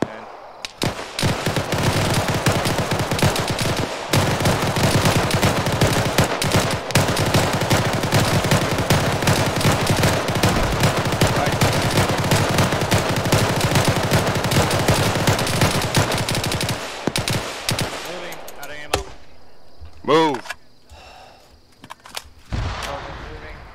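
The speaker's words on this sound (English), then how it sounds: "They're shooting at Alpha." Sustained gunfire rattles through an Arma 3 firefight, dense overlapping bursts and automatic fire close and loud for most of the stretch, then thinning to scattered shots and lulls near the end, with occasional voices beneath.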